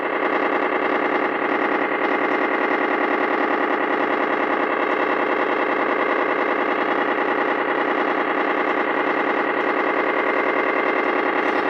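A shortwave radio signal gives off a continuous, loud, distorted tone that pulses steadily with a buzzy, layered texture, running without a break and with no voices.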